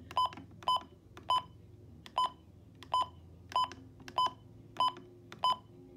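Midland WR120 or WR400 weather radio beeping as its alarm is set: nine short, evenly spaced electronic beeps close by, each a bright tone over a faint low hum, with no talking.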